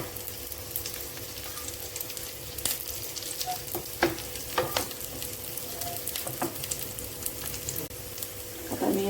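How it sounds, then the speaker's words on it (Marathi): Poha thalipeeth roasting on a pan, a steady close crackling sizzle with scattered sharp pops and ticks, continuous and fairly even, no one speaking. "आता हे सुद्धा आपल्याला एका साईडने थोडं भाजून घ्यायचं आहे"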